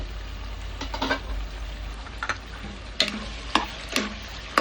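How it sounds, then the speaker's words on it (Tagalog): Chicken caldereta simmering in a pot while being stirred, giving a soft steady bubbling bed with scattered clinks and scrapes of the spoon against the pot, moderately close and fairly quiet. "Antayin natin kumulo. Ayan, kumukulo na siya."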